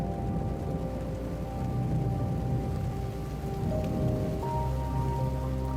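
Heavy rain battering down on a boat on a carp-fishing trip: a steady, dense hiss of drops drumming on the surface, with someone briefly speaking over it.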